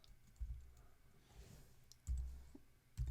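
A few soft, muffled keystrokes on a computer keyboard as a website address is typed, quiet and close, separated by gaps of near silence.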